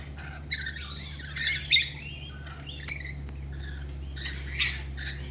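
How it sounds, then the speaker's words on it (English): Small birds squawking and chirping in short, scattered bursts as they are fed, fairly close, over a steady low hum with no talking. "Let me get the birds some food."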